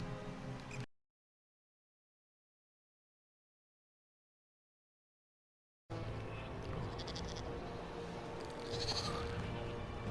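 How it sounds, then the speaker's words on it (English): Feral goats bleat at an oasis in The Elder Scrolls Online. The cries come over a steady game soundscape, and the clip goes fully silent for about five seconds in the middle. "And all these little feral goats gotta go."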